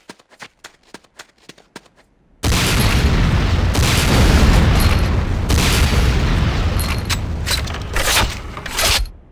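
Rocket launcher blasts from the Command & Conquer Renegade commander training mission: a few sharp mechanical clicks, then a loud, sustained roaring explosion with dense rumbling debris that swells and crackles for several seconds, no voices.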